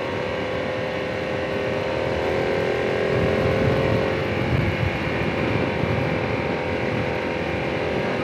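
A steady Harley-Davidson Pan America motorcycle engine drone runs throughout, rising slightly in pitch and loudness midway as the throttle is opened, heard from close by with road noise.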